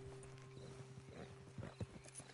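Horses' hooves clip-clopping at a slow walk in the Western video game Red Dead Redemption 2, faint and uneven steps under a steady low hum, with a soft whinny-like sound near the end.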